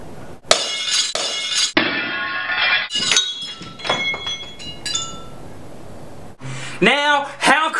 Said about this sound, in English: So right now, I am going to crush this glass bottle.